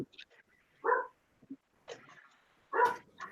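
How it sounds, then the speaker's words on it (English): A pet dog barks a few short, separate times in a quiet room, with pauses in between and no talk over it. "Whose dog's that?"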